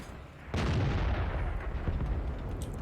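Tank gunfire in the video game World of Tanks: one heavy, booming shot lands abruptly and rolls into a long, loud rumbling tail that fills the rest of the moment.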